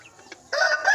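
A Joper chicken, a cross of a Bangkok rooster and a laying hen, gives a brief faint cluck and then a loud, close, drawn-out crowing call lasting about half a second.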